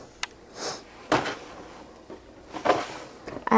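A makeup organizer drawer opens with a few soft sliding scrapes and light knocks, close by and fairly quiet, with no talking.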